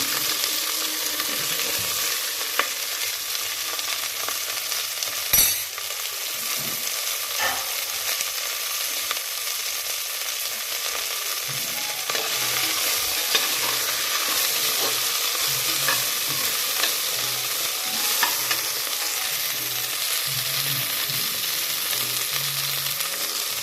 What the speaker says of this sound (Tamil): நல்லெண்ணெய் சூடானதும் கொஞ்சம் நம்ம வெட்டி வச்சுருக்க சின்ன சின்ன துண்டுகளாக வெட்டி வச்சுருக்கக்கூடிய வெண்டைக்காவை போட்டு வதக்கிக்கலாம்.